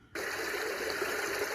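A sleep therapy sound machine abruptly switching on to a steady rushing water sound, a constant hiss and gush that starts after a brief near-silence and holds evenly at moderate level.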